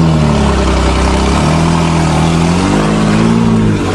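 A 1986 Nissan 4x4 truck, started in gear with the clutch pushed after rust on the clutch face, runs loud and close, its engine revving up and down in rising, wavering pitch.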